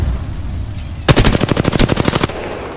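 Rapid automatic gunfire in a shooter video game: one loud, close burst of roughly fifteen evenly spaced shots lasting just over a second, starting after a quiet stretch and cutting off abruptly, with no talking over it.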